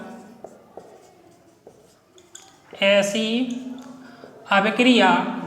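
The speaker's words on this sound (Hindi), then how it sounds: "चलिए इस बात को लिखते हैं" Short scratchy strokes and light taps of writing on a board during a class 10 Hindi-language chemistry lesson on chemical reactions, starting faint and sparse before a teacher's voice speaks over them.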